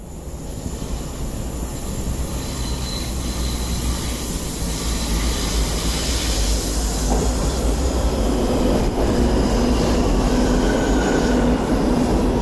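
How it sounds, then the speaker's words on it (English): A metro train rumbles into Ocean Park Station on Hong Kong's MTR South Island Line, steadily growing louder with faint wheel squeal and a high whine over the low roar. "The train to South Horizons is arriving."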